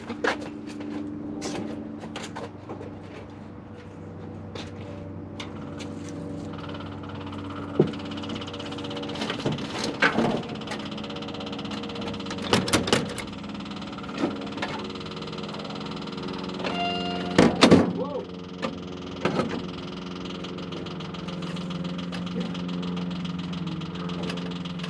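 A Jeep CJ5 engine cranks and catches, then idles steadily with a knocking mechanical rhythm, joined by scattered clanks and sharp metallic taps from nearby. The vehicle has been sitting parked and is in for a transmission service.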